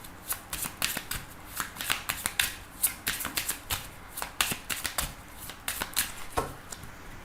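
A deck of tarot cards being shuffled and cut by hand, a close, quiet series of crisp riffling flutters and sharp snaps in an irregular rhythm, with no talking.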